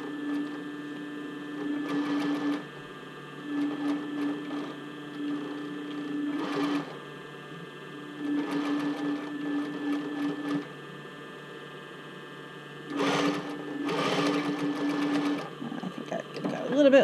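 A sewing machine stitches bra cup fabric in several bursts of a few seconds each, a steady whirring hum separated by short pauses, close and clear, with someone talking over parts of it.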